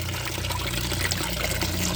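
Water pours in a continuous, fairly loud rush while vegetables are watered in a garden bed, with no break in the flow.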